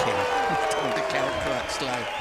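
A motorcycle race crowd cheering at the Silverstone podium after the British MotoGP, broad sustained applause and cheers rolling under a commentator talking throughout.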